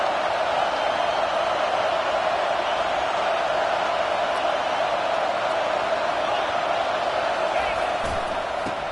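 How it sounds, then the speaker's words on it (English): A football stadium crowd roars on third down, a loud, dense and unbroken wall of cheering and whooping that holds steady from start to finish without letup. "Third down, and this crowd will blow out a vocal cord to help this defense."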